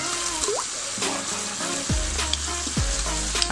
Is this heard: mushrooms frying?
yes